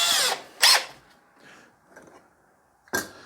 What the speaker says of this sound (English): We will now take our